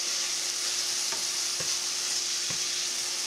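Pork sizzling steadily in a frying pan, a constant close hiss with a few soft stirring taps, no voices.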